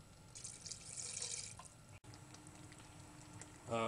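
Water splashes and trickles from a tap while being added to a whale meat stew sauce, faint pouring with drips, then a louder gush at the end.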